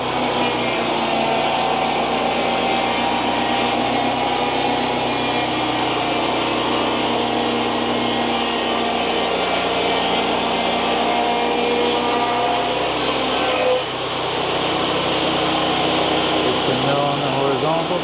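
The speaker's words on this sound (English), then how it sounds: "raise your mill up 3/4 of an inch, do your bevel cut." Sawmill making a bevel cut through spruce for siding, a loud steady whining drone of the blade and motor that runs continuously, dipping briefly near the end.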